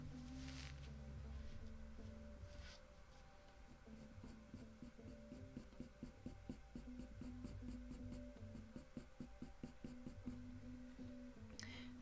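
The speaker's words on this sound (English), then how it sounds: "Oh, I need to use a much darker pencil for up here." Pencil drawing on paper during a spaniel portrait commission: a steady run of short, close scratchy strokes and rubs, dense and rhythmic across most of the stretch, with a low hum beneath and no talk.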